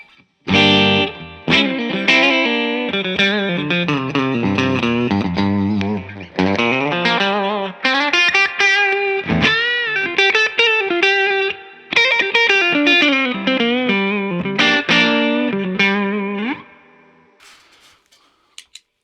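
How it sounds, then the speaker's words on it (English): A clean electric guitar plays chords and single notes through a Reverb Special amplifier, ringing with a touch of room reverb, then the final chord fades out. "here's the clean sound before we kick the pedal in"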